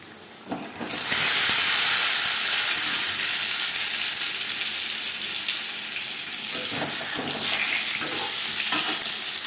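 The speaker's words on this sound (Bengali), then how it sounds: "এবার দিয়ে দেবো আলু।" Boiled potatoes drop into two spoons of hot refined oil in a kadai, bursting into a loud, steady sizzle after a brief quiet start, with occasional stirring scrapes beneath the hiss.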